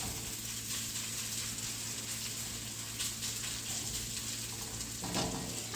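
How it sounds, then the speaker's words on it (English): Hash browns spread thin in hot oil fry in a pan, giving a steady, even sizzle with a low background hum, plus a faint clink or stir near the end. "So we'll get these hash browns browned up, we'll get them fried, and then we'll get them out of the pan"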